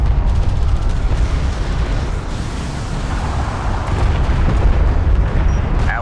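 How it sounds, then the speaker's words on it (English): Airstrike explosions in the game Homeworld: Deserts of Kharak roll out as a continuous, loud barrage of booms and artillery-like blasts that never let up, with no talking. "Enemy airstrike inbound"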